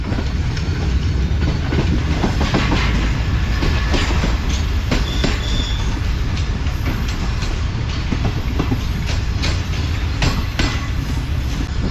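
Shalimar Express passenger train running through a station without stopping, a loud, continuous rumble with rhythmic clickety-clack of wheels over the rails, close by throughout.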